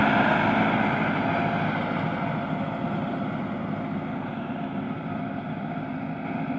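A tractor hauling a disc harrow across farm fields gives a loud, steady engine drone with a broad rumbling, grinding texture that slowly eases in level, with no talk.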